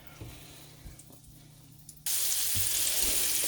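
Green tomatoes dropped into hot oil in a pan, quiet clinks and shuffling giving way to a sudden loud, steady sizzling hiss that fills the rest of the moment.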